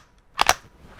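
The bolt of a Brownells 10/22 takedown rifle snaps closed in a single sharp double-edged metallic clack, close and brief, with quiet before and after.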